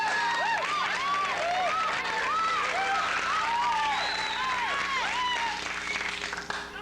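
Studio audience clapping steadily, a dense, bright patter of many hands that stays loud and even, then thins out and stops at the very end.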